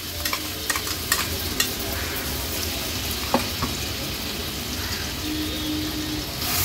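Ground masala paste sizzles as it fries in hot oil over a lowered flame, with scattered scraping taps of a spoon stirring in the pan and a steady crackling hiss throughout.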